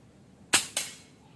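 A Neo GNT version 2.0 air rifle fitted with a sound suppressor fires one muffled shot, a sharp crack followed a fraction of a second later by a second snap, likely the pellet striking the target, with no speech.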